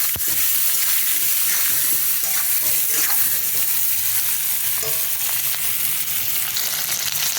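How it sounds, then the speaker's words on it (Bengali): Potatoes and onions fry with salt and turmeric in a pan, giving a loud, dense, continuous sizzle with occasional stirring scrapes throughout, and no voices. "এই আলু পেঁয়াজগুলোর মধ্যে একটু নুন আর একটু হলুদ দিয়ে ভালো করে একটু ভেজে নেবো এগুলো।"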